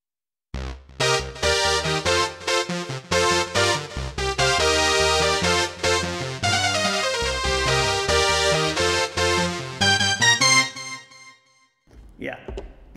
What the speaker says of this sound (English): they actually sampled an Oberheim into this, a real analog synth, and it sounds like this.